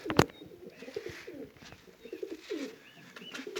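Pigeons coo softly in a low, throaty rhythm, with one brief sharp flutter or clap near the start, fairly faint and close, no talking.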